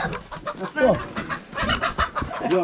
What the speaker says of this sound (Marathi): फायनली आपल्याला कोंबडा भेटलेला आहे